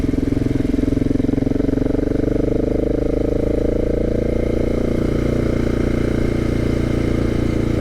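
A motorcycle engine runs steadily while being ridden near Perkinsville, Arizona, giving a loud, close, continuous drone for the whole stretch with no breaks.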